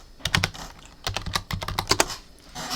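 Rapid bursts of clattery keystrokes on a computer keyboard, close and fairly loud, come in uneven clusters with brief pauses between runs and no voices.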